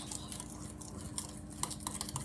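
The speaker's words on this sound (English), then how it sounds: "Hold the bowl while you're stirring." A spoon stirring oatmeal in a bowl, with soft scraping and light clinks repeating quietly and close by, no voices.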